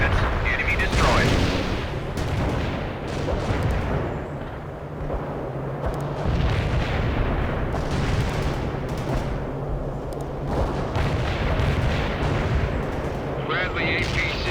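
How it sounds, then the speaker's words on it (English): Artillery shells fire in the World in Conflict war game, a steady barrage of booming, rumbling gunfire that lasts the whole stretch, with radio-style voices talking over it. "Coordinates locked down. Shells on the way."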